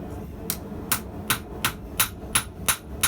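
Hot steel is struck with a hammer to mark the pivot area of hand-forged tongs: eight sharp ringing blows at an even, steady pace, close and loud.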